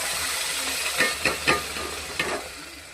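Onion gravy sautéing in oil in a pan gives a steady soft hiss, broken by a few short scraping stir strokes; no one talks.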